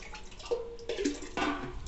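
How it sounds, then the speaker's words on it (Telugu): Water being poured into a pan in short splashing bursts, with gurgling drips between them, close by and fairly quiet. "ఒక హాఫ్ గ్లాస్ వాటర్ పోసుకోవాలండి"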